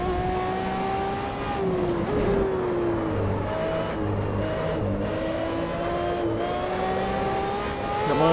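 A race car in the Assetto Corsa racing game revs hard and continuously, its engine note rising and shifting through gears, with steady loud whine throughout and no talk.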